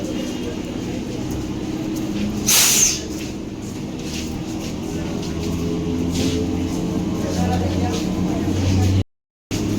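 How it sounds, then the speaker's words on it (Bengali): A low, steady rumble of a train pulling away from platform four at Joynagar station, with a brief hissing burst early on and a constant hum of station noise throughout. "এপাশে হচ্ছে চার নম্বর ট্রেন ছেড়ে দিচ্ছে"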